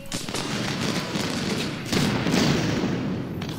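Musket volleys crackle across a Civil War battlefield in Ultimate General: Civil War, dense overlapping shots rolling into a continuous fusillade that swells louder midway, with no clear pauses between reports.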